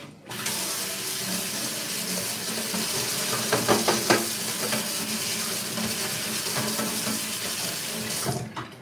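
Tap water runs steadily into a kitchen sink while a wooden turning spoon is rinsed under it, the flow splashing louder for a moment midway before shutting off near the end, made while cooking a traditional German breakfast.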